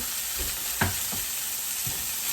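Garlic frying in a pan, a steady close hiss of sizzling oil with a few soft stirring clicks and scrapes, no voices.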